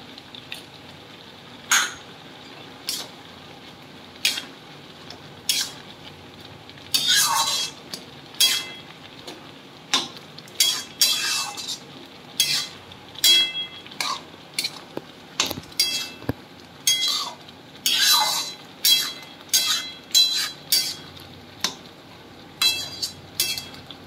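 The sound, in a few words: green chillies stirred and frying in a pan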